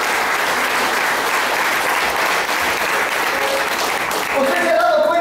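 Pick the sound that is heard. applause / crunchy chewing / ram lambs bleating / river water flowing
applause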